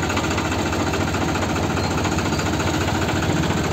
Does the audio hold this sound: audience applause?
no